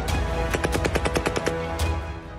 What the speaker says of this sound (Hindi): आसमान से टकराती गोलियों की आवाजें